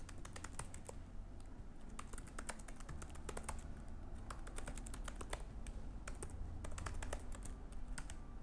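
Keys clatter on a computer keyboard in irregular bursts of quick taps with short pauses, close but quiet, over a low steady hum.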